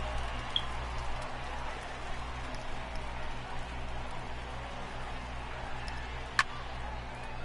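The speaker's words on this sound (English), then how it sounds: "I don't know how much more rain this field can take" Heavy rain pours steadily over a baseball field in MLB The Show 18, a dense even hiss with scattered drop ticks and one sharp tap near the end, no talk.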